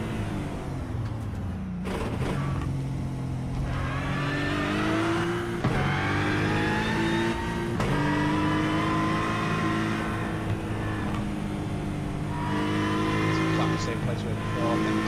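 Aston Martin race car engine at a racing circuit, a loud onboard engine drone rising and falling through repeated gear changes and accelerations, with a voice talking over it.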